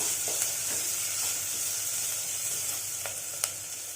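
A bunch of curry leaves sizzles in oil in a pan while a Tamil snake gourd kootu is cooked, a steady close hiss with a few soft scraping stirs.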